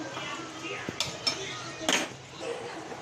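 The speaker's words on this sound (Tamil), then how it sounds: "இப்போ கடாயை வச்சுட்டு ஸ்டவ் பற்ற வைக்க போகிறேன் தாளிக்கிறதுக்கு." A metal wok is set down on a stove for tempering red chutney, with a few clanking knocks and clinks, close up, amid faint background noise.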